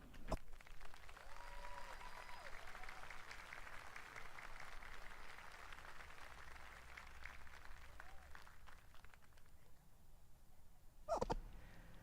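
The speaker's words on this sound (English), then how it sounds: "join me in a round of applause for the cadets who are recognized this evening" Distant applause from a crowd on a field at a homecoming and alumni weekend ceremony for cadets, steady and muffled, ending with a loud thump near the close.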